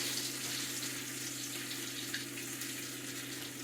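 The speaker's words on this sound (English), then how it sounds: "There it's frying in the pan" A quiet, steady sizzle of a bean and cheese empanada frying in a hot pan, a soft crackling hiss with no talking.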